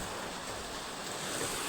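Water rushing through a village canal head, heard as a steady, loud, broadband roar that stays constant throughout, with no voices.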